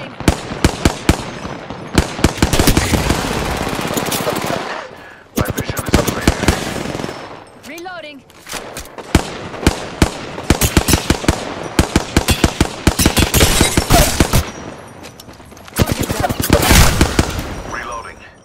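Rapid automatic gunfire in the video game Apex Legends, dense loud bursts of close shots with short pauses between volleys, a brief gap midway filled by quieter game sounds.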